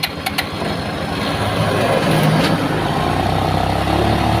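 A Rusi Royal GY6 motorcycle engine starts with a few sharp cranking bursts, then settles into a steady, loud, close idle with a constant buzzing drone.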